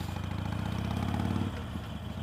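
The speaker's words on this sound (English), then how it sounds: "motorcycles sitting there idling" Harley-Davidson Iron 883 motorcycles idling nearby, a steady low rumbling throb that drops slightly in level partway through.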